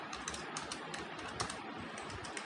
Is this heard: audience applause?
no